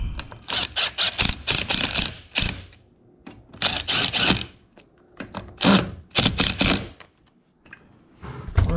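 Screws are driven back in with a Torx bit while rear pivot bushings are refitted on a Minn Kota Ultrex or Fortrex trolling motor, giving several close, sharp whirring bursts separated by brief pauses.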